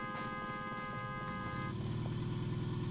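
A car horn honks steadily in the video game RV There Yet, a sustained blaring tone over a low rumbling engine, loud and continuous with no talking.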